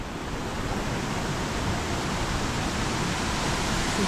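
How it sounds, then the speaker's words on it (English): A steady, broad rush of a waterfall near a river in the Lake District, continuous and fairly loud throughout, with no voices over it. "I can hear the waterfall"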